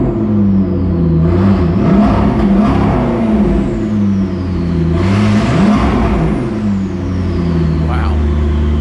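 McLaren car engine revving close by, a loud steady idle with harmonic hum that rises and falls in two strong blips of the throttle, with a faint whir over it.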